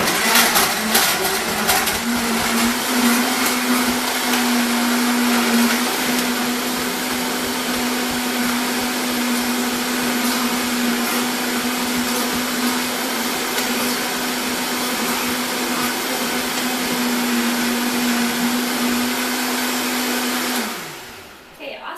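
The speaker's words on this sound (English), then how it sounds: "blend it for a little bit, and then see where it's at. So hold on, it's going to get a little loud." A blender making a green smoothie whirs loudly and steadily at high speed for about twenty seconds, then winds down and stops.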